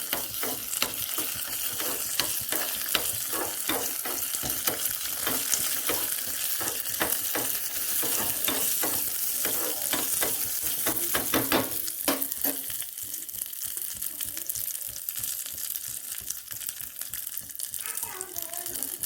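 Cashews and raisins fry in ghee as they are stirred, a steady close sizzle with frequent scraping and clinks of a spoon against the pan throughout for jackfruit payasam.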